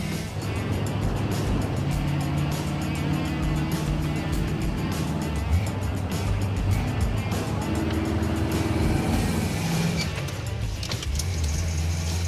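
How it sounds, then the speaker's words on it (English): A Chevrolet K20 pickup truck engine idling and running rough, with pinging from over-advanced timing, steady and loud close up under a continuous low drone. "Oh, it's pinging like mad."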